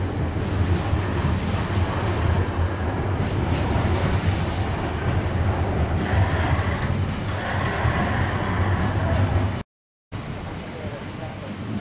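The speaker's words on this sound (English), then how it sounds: "The morning train passes our caravan park in Penguin." A morning train hauling flat cars rolls past a caravan park in Penguin, a steady, wind-buffeted roar and rumble that holds for about ten seconds before a brief dropout.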